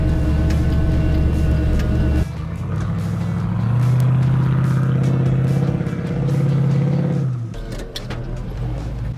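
A truck engine revs and strains steadily for several seconds while driving through a river, with clattering and churning underneath, then eases off near the end.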